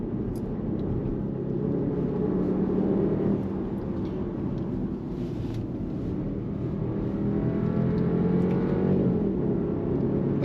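An SUV engine downshifts twice and then accelerates through a corner on the Pikes Peak road. The engine drone is loud, close and continuous, and the revs climb and fall throughout.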